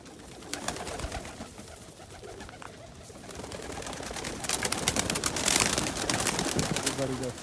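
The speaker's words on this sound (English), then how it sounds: "Some of the nice crested homers from this year." Crested homer pigeons coo in a loft, soft low calls rising and falling amid rustling wings and shuffling, the activity growing busier and louder toward the end.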